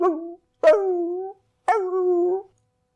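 A dog howls three times in long, wavering tones, each howl starting sharply and trailing off, close and alone in silence.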